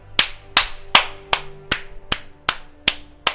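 Applause sound effect in the video game Last Day on Earth Survival: a steady series of about nine sharp, evenly spaced claps, loud and close, with no talk over it.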